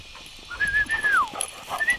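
A puppy whimpers with a drawn-out, high whine that rises and falls, followed by a brief second whimper near the end, close to the listener in an otherwise quiet setting.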